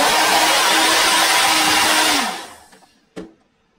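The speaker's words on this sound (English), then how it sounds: "this hair dryer sounds like this" An older, broken hair dryer runs with a loud, steady motor and fan roar, close to the microphone, then spins down over about a second, followed by a sharp click.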